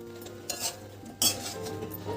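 A spoon scraping and clinking against a pot while pumpkin kofta curry masala is stirred and sautéed, with two louder metallic scrapes and only a faint sizzle underneath.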